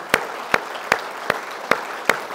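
Church congregation clapping for mothers, heard as six sharp, evenly spaced claps in a slow steady rhythm over a soft background hum, fairly close and clear.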